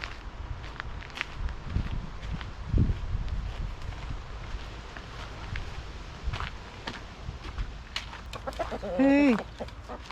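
Hens cluck on and off amid shuffling footsteps and rustling, with a louder burst of clucking near the end.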